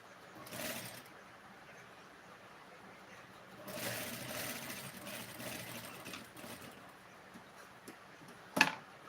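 A sewing machine stitches a blouse in short, quiet runs of fast mechanical whirring, with a longer stretch in the middle and a sharp click near the end.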